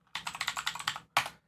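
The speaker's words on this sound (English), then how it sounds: "I love that sound, huh? Mechanical keyboards for the win." Typing on a mechanical keyboard, a quick run of about a dozen crisp clacking keystrokes followed by one harder final press, close and fairly quiet.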